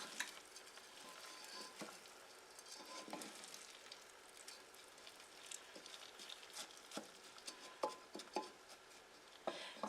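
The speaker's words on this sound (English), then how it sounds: "So I'm going to keep stirring." Rice fries in a pan over medium heat, giving a steady soft sizzle while it is stirred, with scattered light scrapes and taps of the utensil against the pan, heard quietly and close with no talk.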